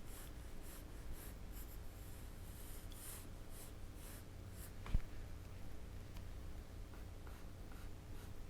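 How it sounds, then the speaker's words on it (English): Pencil sketching a forehead contour in an anatomy drawing, faint rhythmic scratchy strokes on paper with one sharper tap, quiet and close with soft breathing in the background. "So let's sketch in that contour of the forehead"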